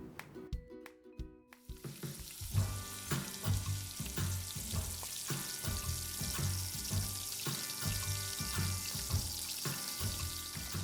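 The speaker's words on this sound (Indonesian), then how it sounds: "Untuk menggoreng tahu" Breaded tofu, dipped in egg and breadcrumbs, dropped into hot oil to fry, giving a close crackling sizzle with rhythmic bubbling pops after a short quiet start, with no talking.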